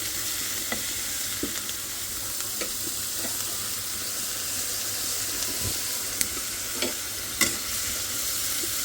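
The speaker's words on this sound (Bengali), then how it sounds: "এখানে মাছ ভাজি বসাইছি" Fish frying in oil gives a continuous close sizzle and crackle, with scattered sharp pops and spatters over nearly nine seconds and no talk.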